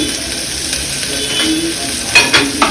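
Onions frying in well-heated oil for a mushroom curry, a close, loud continuous sizzle and hiss with a few sharp clinks of a spoon near the end.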